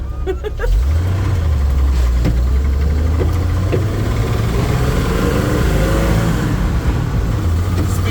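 1974 Ford truck engine running close by, a loud, steady rumble that rises and falls as it revs.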